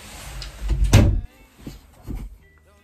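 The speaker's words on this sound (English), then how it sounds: "I'm just gonna shut the door because it's gotten really noisy outside." A door swings shut indoors with one solid thud, followed by a couple of softer knocks as it settles, then quiet.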